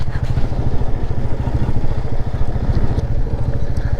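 Royal Enfield motorcycle riding over a rough road, a loud, steady low thumping engine beat mixed with rattling clatter and wind rush throughout, close to the rider.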